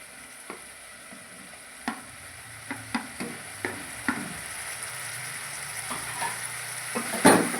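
Ridge gourd sautéing in a pan of fish curry, with a steady sizzle broken by sharp spoon scrapes and stirring knocks at irregular intervals, ending in a louder clatter.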